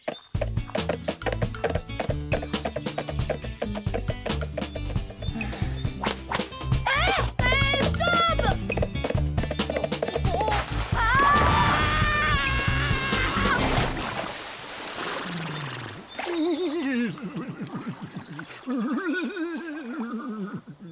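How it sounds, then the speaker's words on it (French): In a cartoon, a horse's hooves clip-clop in a fast steady rhythm under music, then the horse gives a loud, wavering whinny that trails off into sliding cartoon sound effects. "il est pas très nerveux ton cheval quand même"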